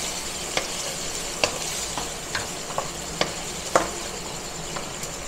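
Black beans and beef frying in a pan for ampalaya con carne, stirred with a utensil: continuous hiss of sizzling under repeated sharp scraping clicks, close and steady, no talking.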